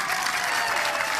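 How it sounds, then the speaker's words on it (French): Applause from a crowd at a political rally of an opposition coalition in northern Togo, a dense, steady burst of clapping, loud and close, lasting the whole short moment with no speech over it. "Je voudrais qu'on applaudisse pour les premiers responsables de la coalition."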